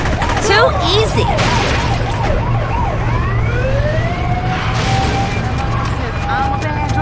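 Ambulance siren in the Saints Row video game, wailing continuously with rising and falling sweeps over engine rumble and game noise, with a voice talking briefly near the start.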